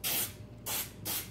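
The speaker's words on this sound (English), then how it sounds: "just some regular old baking spray, any brand I guess will do" Baking spray from an aerosol can hisses into a loaf pan in three short, close bursts, each a sharp, airy spray separated by brief pauses.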